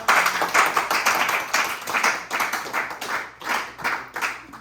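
Church congregation at a Sunday service clapping in a steady, loud rhythmic beat, with many hands together close by and faint voices acclaiming beneath.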